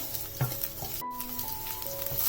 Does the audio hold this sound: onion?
yes